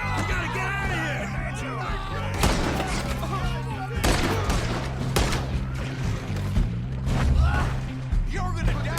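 Gunfire in Red Dead Redemption 2 rings out in several sharp, loud shots amid a tense shootout, over a busy bed of game noise and urgent shouting voices.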